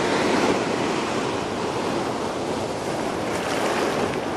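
Pacific Ocean waves breaking on Seabright Beach in Aptos, a steady broad roar of surf and wind, close and continuous, with no voices.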